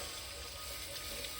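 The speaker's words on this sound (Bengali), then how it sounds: "এবার আমি এতে পরিমাণ মতো জল অ্যাড করব।" Water left over from boiling peas being poured into a large pot of ghugni, a steady, continuous close pour that stays even throughout the short clip, with no talking.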